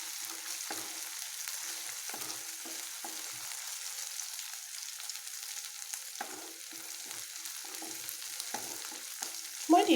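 Onions turning golden brown sizzle steadily in a pan, with intermittent spatula scrapes and stirring clicks close by and a brief louder clatter at the end.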